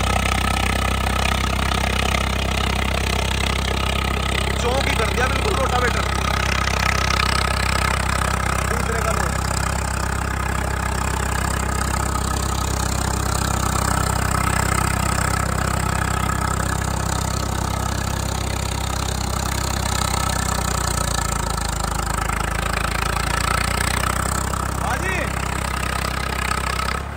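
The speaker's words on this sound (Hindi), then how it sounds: "इस ट्रैक्टर के साउंड है ना भाई" A tractor fitted with a rotavator idles steadily throughout, a low continuous rumble with people talking over it.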